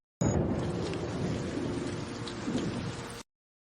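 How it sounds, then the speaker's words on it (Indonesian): Steady heavy rain pours down with a low rumble of thunder underneath, a constant wash of noise that starts abruptly and cuts off after about three seconds. "Aduh, hujan! Ibu, hujan!"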